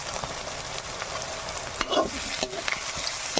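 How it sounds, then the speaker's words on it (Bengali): Ginger, garlic, onion and chillies fry in oil in a pan, giving a steady soft sizzle with occasional stirring scrapes, close and fairly quiet, with no talking. "এগুলো ভালো মতন করে একটু ভেজে নেবো পেঁয়াজের সাথে, যাতে আদা রসুনের কাঁচা ভাবটা না থাকে।"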